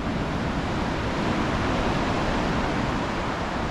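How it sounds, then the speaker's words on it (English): Ocean surf breaks on rocks far below a high coastal trail, a steady broadband wash of roaring water with no distinct individual crashes. "I just love the sound of the waves."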